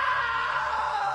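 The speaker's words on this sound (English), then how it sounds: "Now that was a great scream." A man's anguished scream in the video game What Remains of Edith Finch, after he slips into a table saw; one sustained, wavering cry holds steady for over a second, loud and unbroken.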